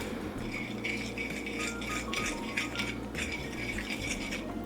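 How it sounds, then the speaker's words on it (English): Soy milk batter for a vegan cauliflower dish being whisked in a bowl, a quick run of light rhythmic clinking and scraping strokes over a low steady hum, with no talk. "And then you just want to whisk it."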